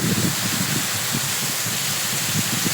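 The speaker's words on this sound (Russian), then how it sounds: "Смотрите, какой дождь сильно идет." Heavy rain comes down during a sudden downpour with gusty wind, a steady dense hiss of falling water with scattered drop patter, continuous and fairly loud with no voices.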